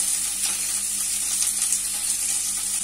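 Onion dropped into a stew pot sizzling steadily, a close, even hiss of frying with faint stirring and no talk.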